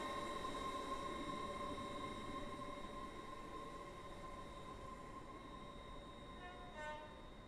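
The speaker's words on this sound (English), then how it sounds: "The train now approaching Platform 2 terminates here." Train in a video game pulling into Platform 2 at a Stepford station, a steady loud rumble of wheels and motor with sustained tonal hum, easing slightly toward the end as it arrives.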